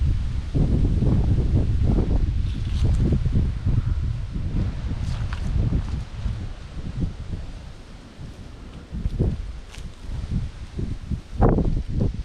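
Strong wind gusting across an open lakeside beach, a steady roaring buffet against the microphone with occasional rustling and louder bursts, near and continuous throughout.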